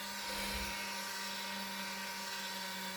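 A small motor drives the auto-feeder of a rifle brass annealer, set near its factory speed of about 25 RPM, giving a steady, loud mechanical whine with a constant low hum throughout and no talk.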